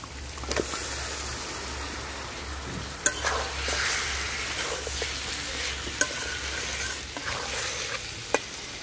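Chicken pieces fry in spice paste in a pan for chicken moong dal, with a steady close sizzle broken by repeated scraping stirs and a few sharp utensil knocks.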